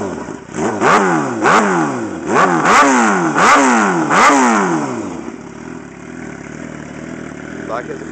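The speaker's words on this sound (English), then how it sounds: "This bike is very loud. Custom shorty exhaust," A loud 2007 Suzuki GSX-R sport motorcycle engine with a custom shorty exhaust revs repeatedly in sharp rising bursts, about five in a row, with a raspy short exhaust, then settles to a rough idle.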